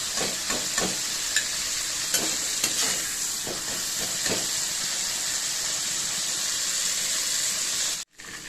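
Fish sizzles loudly in hot oil, a steady crackling hiss with occasional pops and spatters, ending in a brief pause.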